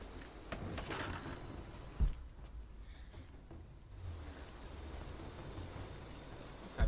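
Rain falls steadily in the video game Rise of the Tomb Raider, a soft, continuous patter with a few louder thumps, faint and alone throughout.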